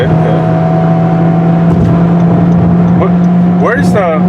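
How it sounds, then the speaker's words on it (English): A 2014 Honda Civic EX with a CVT transmission drones steadily from inside the cabin during a daytime test drive, engine note holding a constant pitch, while someone talks over it. "I can downshift and gain RPM again,"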